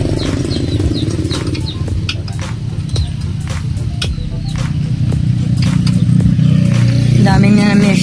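A motorcycle engine idles and putters close by after a shock absorber repair, a steady rough rumble dotted with sharp metallic clicks that grows slightly louder toward the end.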